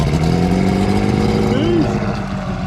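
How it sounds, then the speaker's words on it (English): A Chrysler outboard engine on a 1982 Glasstream bass boat drones steadily at close range, its pitch briefly rising and falling as a voice speaks over it. "Love the sound of a Chrysler, baby."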